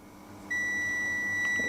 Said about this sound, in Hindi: जिसमें ये बजर बजा देंगे।